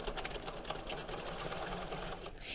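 A sewing machine stitches a waistcoat in a fast, even rhythmic whirr of needle strokes, close and steady, with no talking.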